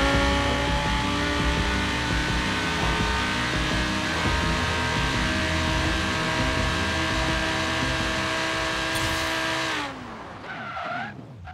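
A heavily modified one-off Audi R8 dragster of about 9000 horsepower in Forza Horizon 3 screams as it accelerates hard, a loud sustained engine whine rising steadily, then cutting off abruptly near the end with a brief tire squeal.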